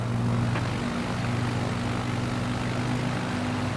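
A steady, droning propeller airplane engine in Microsoft Flight Simulator 2020 hums continuously at an even volume, with no other sounds.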